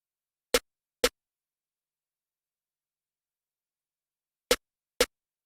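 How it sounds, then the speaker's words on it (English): Four isolated snare drum hits from a sad piano trap beat kit, sharp broadband cracks in two pairs separated by a long silence, alone and dry. "the next sound is a snare"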